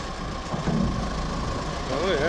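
1996 CAT 436B 4x2 backhoe loader engine running steadily with a low rumbling drone as the bucket is raised, near and continuous with a hydraulic whine near the end.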